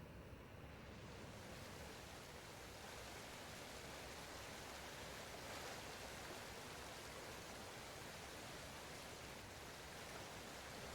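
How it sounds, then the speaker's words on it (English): A scratchy, hissing rush of flowing water fills a spot in the racing game Forza Horizon 6. It is a dense, constant wash of noise that stays even throughout, with no voices. "kind of just like a scratchy, like, water source sound coming from there"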